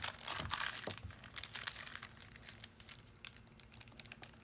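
Sheets of paper being folded for a handmade book: close crinkling and crackling rustles, busiest early on, then lighter scattered creases.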